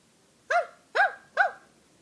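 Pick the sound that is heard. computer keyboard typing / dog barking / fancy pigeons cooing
dog barking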